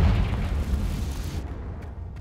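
A Confringo blasting spell explodes in the Hogwarts Legacy video game on Xbox, a deep, loud boom with a rumbling low burst that rings out briefly and then decays.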